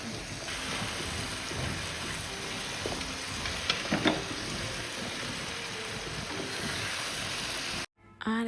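Ground nut, raisin and spice paste sizzling in a hot pan of oil, a steady crackling fry with a few stirring clinks, loud and close, cutting off abruptly at the end.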